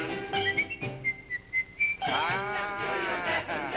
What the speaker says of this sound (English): Just blow a merry tune.